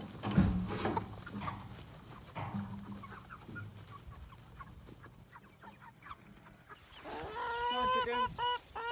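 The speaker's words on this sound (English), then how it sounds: "Come on, chickens." Hens cluck in short bursts nearby at breakfast feeding time, with a louder, clearer run of clucking toward the end over faint outdoor background.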